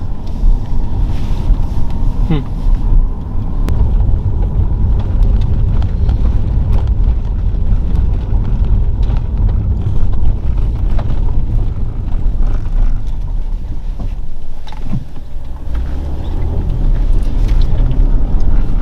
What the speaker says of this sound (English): As the wind keeps blowing in the large and abandoned property